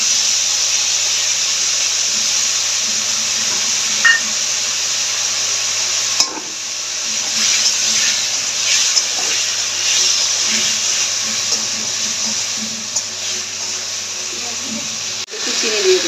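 Spices cooking in a pan for a gaati kochu dish hiss and sizzle steadily once water is added, with a sudden sharper burst and occasional clinks, while a voice speaks over it.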